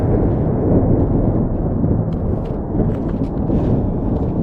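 A deep, sustained rumble of thunder rolls on without a break, loud and low, with faint crackles and patter of rain above it, at the Grand Canyon South Rim.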